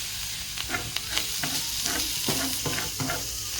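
Onions, sauerkraut and garlic sizzle steadily in a pan, with repeated soft stirring scrapes over the constant frying hiss, close and moderately quiet, with no talking.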